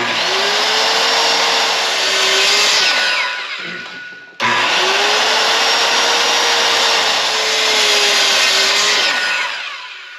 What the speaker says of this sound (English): I'll just take these into the table saw and we'll just strip them off the width of our charcuterie board